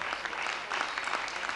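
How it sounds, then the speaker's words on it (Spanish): Audience applause for the sound engineer at a 1992 music clinic, a steady dense patter of clapping from a crowd that runs throughout the short burst. "fuerte el aplauso para él"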